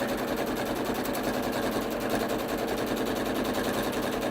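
A quilting machine stitches a flower outline on a king-sized quilt, producing a rapid, steady mechanical chatter of needle strokes, close and continuous with no talking.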